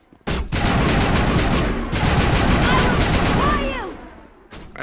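Rapid gunfire crackles through a firefight in the video game Mass Effect, a dense near-continuous burst broken by a brief pause before a sharp final headshot, with combat noise filling the gaps.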